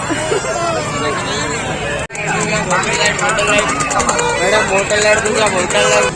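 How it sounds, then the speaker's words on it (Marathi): Thick hubbub of a crowded Urus fair, continuous overlapping voices and bustle, loud and close, briefly cutting out near the two-second mark before resuming. "सॉलिड गर्दी आहे आज"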